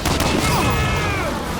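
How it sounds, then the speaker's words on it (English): Explosions go off in the video game Medal of Honor Warchest, a dense, loud burst of blasts and rumbling battle noise filling the short stretch without a break. "See, just like that, they just kill me with explosions."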